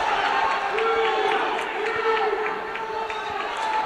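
A school wrestling meet crowd cheers for the Red Raiders, a continuous mass of voices with shouts and some clapping filling a gym, moderately loud and steady throughout.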